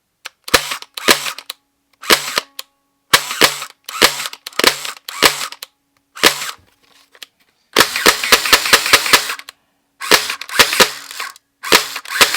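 A Nerf Gel Fire Nightfall Uproar gel blaster fires semi-automatically in sharp, close snapping shots, some single and some in quick bursts with short silent gaps between them.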